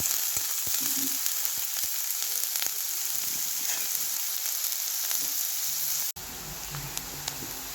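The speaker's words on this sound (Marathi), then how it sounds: "कांदा छानसा परतवून घेऊया आपण लाल होईपर्यंत" Onion sautéing in a pan until reddish, a continuous close crackling sizzle with scattered pops and occasional stirring clicks throughout, no one talking.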